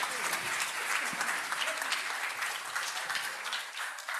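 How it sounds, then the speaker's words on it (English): Sustained audience applause fills a room at an alumni discussion event on history and disinformation as a speaker is welcomed, a dense, steady wash of many hands clapping together. "please give a round of applause to Dr."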